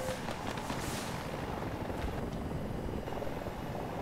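An attack helicopter in Battlefield 2042 drones steadily nearby, its rotor and engine making a dense, continuous roar amid muffled battle noise, with no voices heard.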